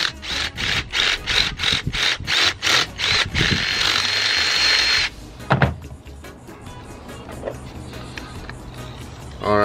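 Power drill boring out a hole to fit 3/4-inch pipe for a ghost shrimp pump, heard as about ten short, loud, evenly spaced bursts, then one sustained run of several seconds, followed by quieter handling and clatter.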